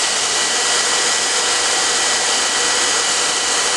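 A heat gun blows a steady, loud, even roar of hot air over vinyl laid on rough, unsealed wood, unbroken from start to finish with no talk.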